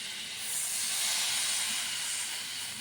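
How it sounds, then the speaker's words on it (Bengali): Water poured into a hot pan of frying boal fish roe curry sets off a loud, steady, close-up hiss of steam that swells and holds for a few seconds. "বোয়াল মাছের জাল কষানো হয়ে গেছে এখন জল দিয়ে দেব"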